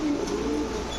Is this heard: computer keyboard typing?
no